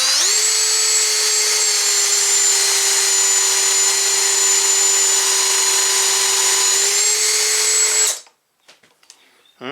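A power drill runs continuously at steady high speed, boring a concealed hinge hole through a jig with a loud, even whine for about eight seconds before stopping, followed by light handling noises.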